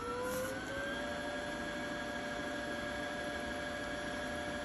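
A Brother PE535 embroidery machine winds a bobbin with a steady, loud, continuous motor whir that holds an even pitch and runs alone without any pause.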